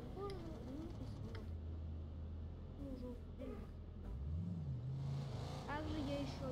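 A car drives through city streets in the City Car Driving simulator game, its engine a steady low hum with a brief rise in revs, while a person talks over it throughout.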